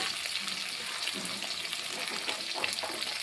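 Chopped vegetables (potato, squash, carrot) sizzling steadily in hot oil over tempered spices in a Bengali doodh shukto dish; a continuous, even frying hiss with light crackle throughout, moderately close.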